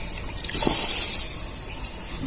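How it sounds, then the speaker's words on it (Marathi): A steady stream of water pours and trickles into a pot of moth bean dal for a couple of seconds, fairly close and clear. "अजून थोडंसं पाणी घालून घेऊया"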